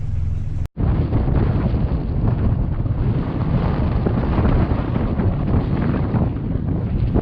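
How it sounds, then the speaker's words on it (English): A strong gust of wind strikes a reefed sailboat under sail, a loud, continuous roaring buffet of air against the microphone after a brief cut, steady and unrelenting, with no talk. "We just had a gust of wind come through"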